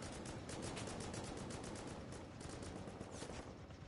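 Automated turret fire in Rust video game: a faint, continuous rattle of rapid shots with a dense, hissy texture, fairly distant and steady throughout.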